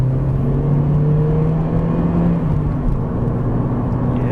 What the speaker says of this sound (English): We'll get a little bit of burst of acceleration here.